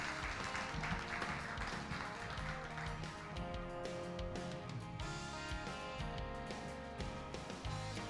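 An audience at a wheelchair pageant's award ceremony applauds steadily throughout, the clapping blended with loud continuous music.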